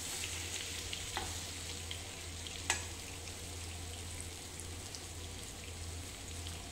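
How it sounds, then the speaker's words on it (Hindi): Steamed bottle gourd kofta fry gently in a little oil with a soft, even sizzle and faint crackle. A couple of brief utensil taps break the steady hiss, and no one speaks. "हल्का सा फ्राई कर दूँगी।"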